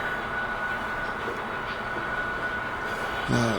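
Steady low rumble and hum of a model train rolling along track on a layout, continuous throughout, with a brief clatter near the end.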